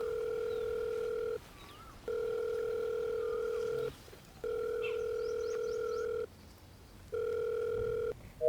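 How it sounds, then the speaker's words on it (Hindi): Phone ringback tone on an unanswered call: four long, steady, evenly spaced ringing tones with short silent gaps, fairly loud and alone with no talk. "फोन नहीं उठा रहे"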